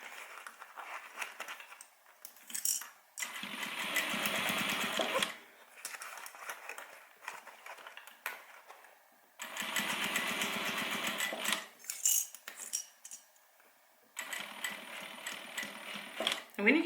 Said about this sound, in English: I'm going to sew with my joining stitch all the way around